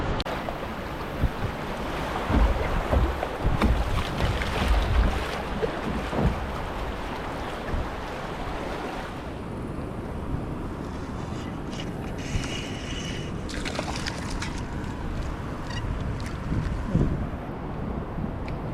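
A kayak runs down rapids on the Great Miami River, with continuous rushing water and splashing close by, heavy wind buffeting the microphone, and occasional knocks and paddle strokes.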